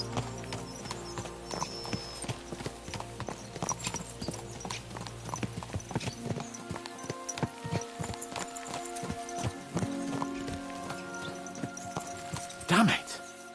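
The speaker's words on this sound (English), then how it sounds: "Let's really spur these horses on, eh?" Horses in Kingdom Come: Deliverance II, spurred on as they ride, their hooves clip-clopping in a fast, steady rhythm, loud and close, with voices and other game sounds alongside.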